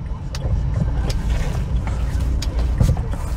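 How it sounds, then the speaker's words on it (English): A 2015 Renault Duster running on an aftermarket CNG kit, heard from inside the cabin as a steady low engine drone with road rumble and a few faint clicks. "The fuel is very low, so I'm driving on CNG"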